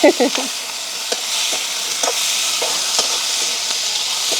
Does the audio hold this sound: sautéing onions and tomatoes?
yes